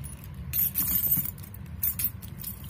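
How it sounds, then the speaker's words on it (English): Car keys jangling against a Coach floral key pouch, a bright, continuous metallic rattle close up that rises and falls in small shakes with no talking. "if we want to put the car key on there now"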